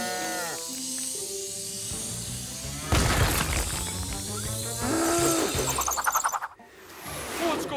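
Several cartoon cows moo loudly over a busy, layered background of other animal and mechanical noises, with bursts of sound piling up midway.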